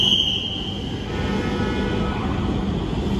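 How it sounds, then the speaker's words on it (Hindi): A metro train arriving at a station rumbles steadily with a brief high-pitched squeal of wheels at the start, a continuous rolling clatter filling the space. "ये अपनी मेट्रो आ गई है"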